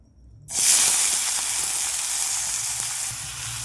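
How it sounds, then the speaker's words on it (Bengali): Potatoes drop into hot mustard oil in a wok, setting off a sudden loud, steady sizzle and hiss that holds close and bright, with faint scrapes and ticks underneath. "এবার কড়াতে দেব সরিষার তেল। এবার ছেঁকে রাখা আলু,"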